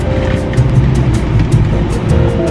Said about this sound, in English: My first car wash.